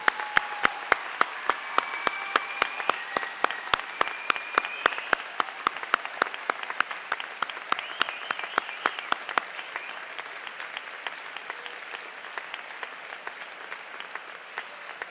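Applause from a standing audience at a university graduation ceremony, a broad steady roar of clapping with sharp, regular claps close by for the first ten seconds, then continuing more evenly for several seconds more.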